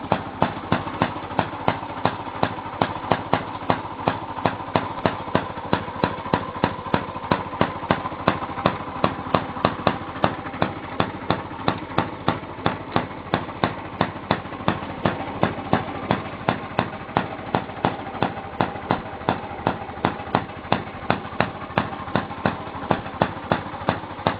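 An old motor runs steadily under load, its rhythmic, evenly spaced chugging pulses continuing close and moderately loud throughout, with no voices over it.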